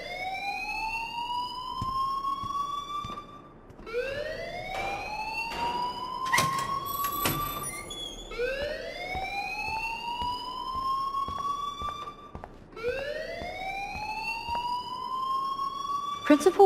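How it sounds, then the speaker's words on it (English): A fire alarm in the video game Life Is Strange wails in a steady cycle of rising sweeps with bright harmonics, each about four seconds long. A few sharp electronic tones sound partway through. "please turn off that alarm since that's your job"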